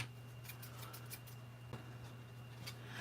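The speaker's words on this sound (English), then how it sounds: "I'm going to fussy cut him out first" Scissors snip around a paper figure during fussy cutting, a run of short, crisp cuts close by over a steady low hum.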